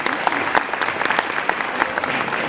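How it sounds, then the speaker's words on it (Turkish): An indoor audience at a book-gift event for orphaned children breaks into sustained clapping, dense and fairly near, with a few sharper individual claps standing out and murmured voices beneath. "Başkanımızı şimdiden alkışlıyoruz."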